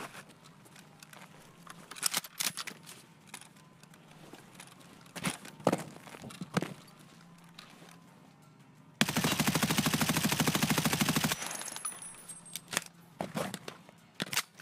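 In the game Escape from Tarkov, an automatic weapon test-fires a continuous burst lasting about two seconds, loud and dense, after scattered footsteps, clicks and movement sounds from gear handling.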